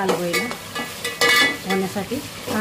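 Onions frying in a pan until browned, a close sizzle broken by scraping stirs and light clinks of a utensil against the pan, with brief murmurs of talk.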